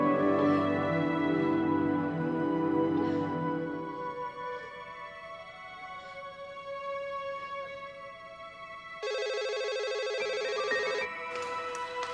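A telephone rings in an Indonesian TV drama scene, a steady electronic ringtone repeating over a quiet room, with a sharper, louder ring tone cutting in near the end.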